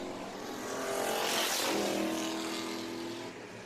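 Dirt track race car, the 99 car, at Deep South Speedway roaring past, its engine swelling loud as it nears, then fading away; no talk.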